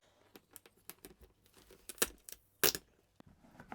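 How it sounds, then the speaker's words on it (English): A sticky label peeled from the packaging of a Disney Stitch animatronic toy, heard as soft crinkling and tearing with a few sharper rips, close and quiet, with no voices. "And the other sticky label off."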